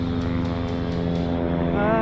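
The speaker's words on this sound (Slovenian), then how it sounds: "helikopter je gor odletel z tovorom" Steady droning helicopter engine with a rotor-like harmonic hum, loud and continuous throughout, rising slightly toward the end as it passes overhead carrying cargo in the mountains at Grimsel Pass.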